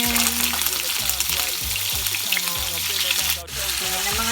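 Chicken pieces fry in hot cooking oil with a loud, steady sizzle and crackle from start to finish, plus occasional clinks and stirring, and no talk over it.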